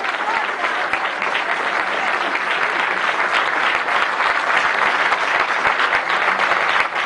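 Loud, dense crowd applause sustained throughout, a continuous wash of many hands clapping at once.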